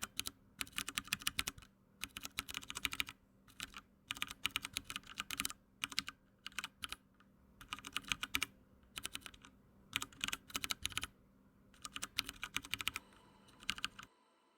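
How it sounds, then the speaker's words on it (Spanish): Mechanical keyboard with Cherry Brown tactile switches typed in bursts of quick, crisp clacking keystrokes separated by brief pauses, close and fairly quiet with no talking. "El siguiente es el switch Cherry Brown. Es táctil y tiene una fuerza de operación de 55 gramos"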